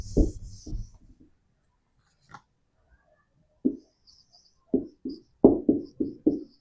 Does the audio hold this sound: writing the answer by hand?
yes